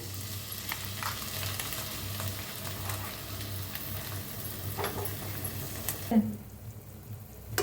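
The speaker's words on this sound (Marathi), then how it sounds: "आता हे पनीर बारीक करून घेतलेलं तुपात सोडूया." Grated paneer frying in hot ghee gives a steady sizzle with light stirring scrapes throughout, quieting sharply near the end.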